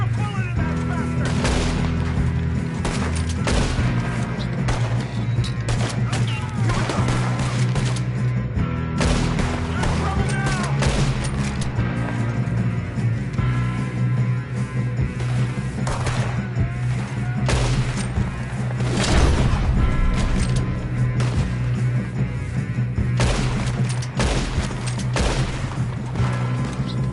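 Red Dead Redemption 2 shootout: dense, rapid gunfire cracks again and again without letup, with loud overlapping shots and bursts throughout.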